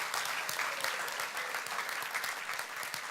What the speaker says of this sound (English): Give him a big round of applause for helping out.